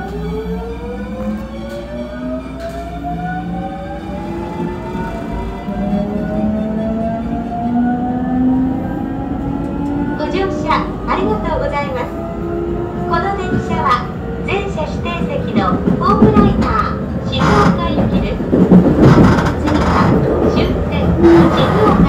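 A JR Central 373 series electric train with Toshiba GTO motor control pulls away from a station, its motor whine rising in steady stepped tones, joined by rail clatter as speed builds; a voice talks over it.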